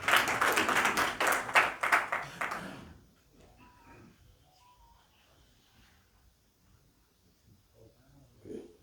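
An audience at a documentary film launch applauds in a dense burst of clapping for about three seconds, then it dies away to a quiet room with faint scattered noises.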